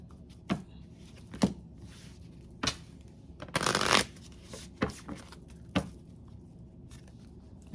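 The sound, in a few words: shuffling a deck of oracle cards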